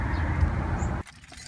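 A 2011 Subaru's trunk is opened with a short clunk and rattle about two-thirds through, after a steady low rumble that drops away, close and moderately quiet.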